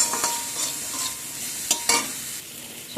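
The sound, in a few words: stirring and mixing potato tikki ingredients with spices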